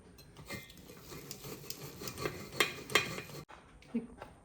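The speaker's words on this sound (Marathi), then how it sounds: "तांब्याने फक्त असं प्रेस करत जायचं लगेच हे डाळ आहे ती बारीक होते" A metal tambya pot pressing and mashing cooked chana dal, soft repeated thuds and metallic clinks against the vessel, close but quiet, with a brief sharp knock near the end.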